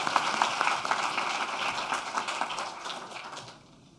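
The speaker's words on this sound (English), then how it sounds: "A bunch of applause" Audience applause at the r2con 2019 security conference, a patter of many hands under faint talk that thins and fades out toward the end.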